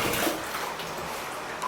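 Tap water runs steadily into a bathtub with the drain stopper partly open, a continuous near splashing rush with no talk.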